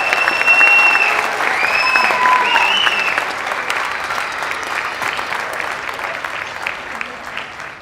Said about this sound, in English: Let's give a round of applause for the future graduating class of